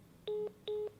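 Two long electronic ring tones through a phone line, each a steady buzzing chime about two tenths of a second long, separated by a short gap.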